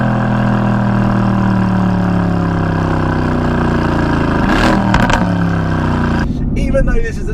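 A turbocharged Mercedes-AMG engine hums steadily at low revs, then builds and revs up as the car accelerates, with someone talking over it throughout.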